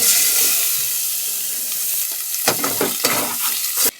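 Bay leaf, clove, black pepper and chicken frying in white oil on a gas stove, a loud close sizzle that eases off, then bursts of stirring scrapes and spatters near the end, with no talk.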